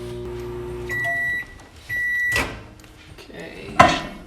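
Microwave oven heating marshmallows: two short steady beeps, then a door thump and a later clunk as the door shuts. A voice talks at the start.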